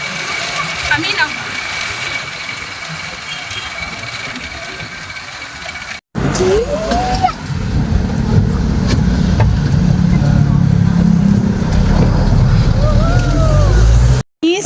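A jeepney's engine hums and rumbles during a ride, loud and continuous, growing heavier after a short break, with people talking over it the whole way.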